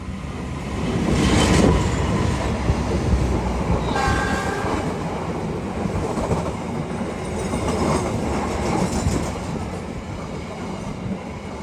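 A train rumbles steadily along the tracks, a loud, continuous clatter and roar with no voices.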